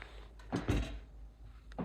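A solid wood drawer in an L-shaped kitchen slides open and shut, giving a few close wooden rumbles and thunks in a quiet room.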